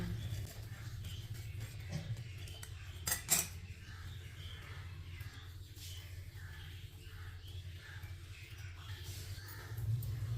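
A knife cuts through homemade sandwiches on a board, with a short burst of scraping and clinking near the middle. Before and after it there is only a faint low hum.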